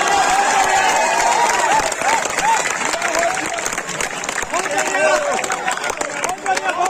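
An audience at a Hindi poetry recitation claps loudly and continuously, with crowd murmur and a voice speaking over the applause throughout.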